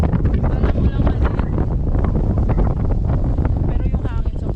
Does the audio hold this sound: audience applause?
no